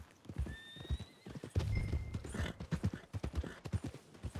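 Horse hooves clip-clop at a steady walking pace in Red Dead Redemption 2, close and clear, with a horse whinny and faint background game ambience.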